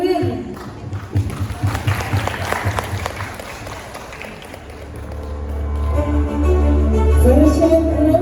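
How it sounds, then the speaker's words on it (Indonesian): Audience at a junior high school graduation ceremony clapping for the graduating students, a scattered spatter of hands heard partly under a voice, while a low musical hum and tones rise toward the end. "Beri tepuk tangan yang meriah"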